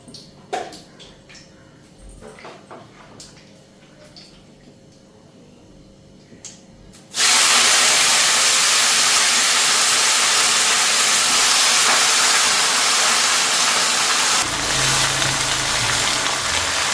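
Vegetables (tomato, eggplant, potato and sweet pumpkin) hit hot oil with a sudden loud, close sizzle after some quiet clattering, and the hiss continues strongly to the end.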